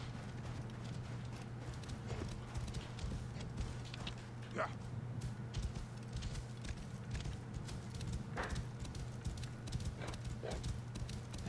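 Horse hooves galloping in the video game Assassin's Creed Origins, a rapid continuous clip-clop under a steady low hum, with a couple of brief whinny-like cries and faint voices in the background.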